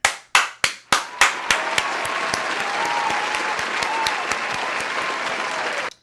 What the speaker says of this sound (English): So clap it up for that.